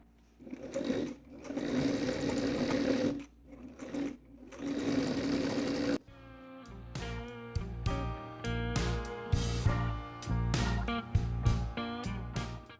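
A sewing machine runs a seam on a summer dress with a two-millimetre stitch width and short stitch length. Loud, steady bursts of whirring stitching stop and start several times, and the later runs sound brighter and more rhythmic.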